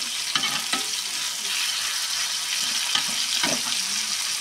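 Green chilies and tomato fry in a pan with a steady sizzle, broken by a few soft scraping stirs.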